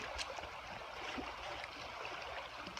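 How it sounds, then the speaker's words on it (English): Flowing water of the West Branch of the Piscataquis River at a hiking ford, a faint steady rushing and trickling stream heard from nearby. "here RTK goes with the ford of the West Branch of the Piscotty River"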